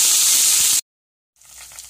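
Curry leaves and coriander hit hot tempering oil with a loud, close sizzling hiss that cuts off abruptly, then a quieter crackle resumes after a short silence.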